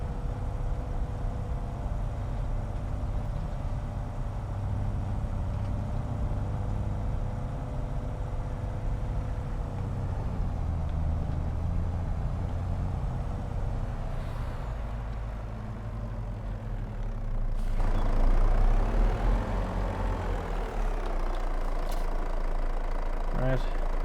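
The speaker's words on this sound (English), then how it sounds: "But now at least we own a lorry." A lorry in Farming Simulator 22 rumbles with a steady low engine drone that swells briefly as it accelerates, while a person talks over it.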